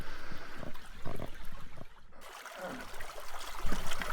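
Creek water running year round through a redwood forest, a continuous gurgling trickle at moderate distance with a brief quiet dip partway through and some faint voices.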